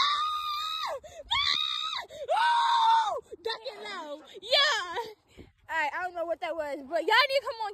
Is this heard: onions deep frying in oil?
no